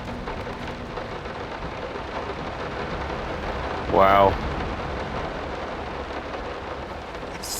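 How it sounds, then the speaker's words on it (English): Steady rain and rumbling thunder fill a dark scene in the horror game Layers of Fear, a constant wash with a brief louder swell midway as a voice speaks a short exclamation over it. "Let's have a look at the rain."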